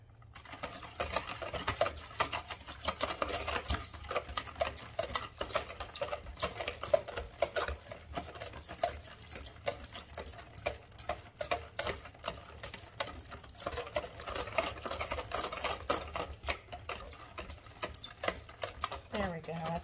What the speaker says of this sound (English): I'm going to get this all stirred up so that we can dissolve both the salt and the gelatin.